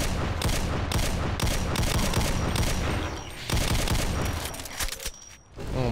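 Rapid bursts of Desert Eagle pistol fire in Brutal Doom Project Brutality, loud and dense over several seconds with booming impacts and game effects, briefly easing midway before resuming.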